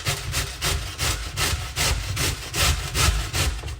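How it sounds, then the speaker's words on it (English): Food rubbed over the largest side of a box grater, a rhythmic close rasping in repeated strokes, about nine even passes with no voices. "I'm grating it just like this."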